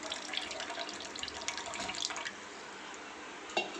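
Water strained from a crab-leg mixer is poured into a cooking pan for crab curry, giving a steady splashing, trickling pour that runs for a couple of seconds, then eases into softer dribbles with a brief louder splash near the end.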